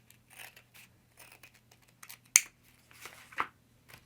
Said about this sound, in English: I think I'm just going to cut this flap off.